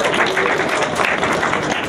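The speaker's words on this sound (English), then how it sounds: "Another round of applause" Applause from an audience at a City Hall gathering, a brief dense burst of many hands clapping close by, loud and continuous with no voices standing out.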